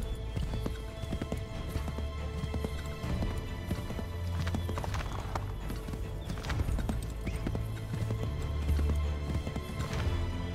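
Horse hooves clip-clopping at a steady gallop in Assassin's Creed III Remastered, a continuous rhythmic pounding under game music and ambience, with a brief whinny breaking through.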